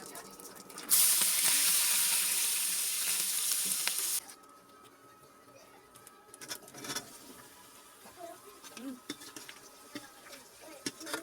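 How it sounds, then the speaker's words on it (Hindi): Mustard oil heats in an iron kadhai on an induction cooktop, giving a loud, steady sizzle and crackle for a few seconds. It cuts off abruptly and leaves quiet room sounds with scattered small clinks. "यहाँ पे मैं इंडक्शन पे मैंने कढ़ाई चढ़ा दी है लोहे वाली। बस यहाँ पे मैंने सरसों ऑयल डाला है।"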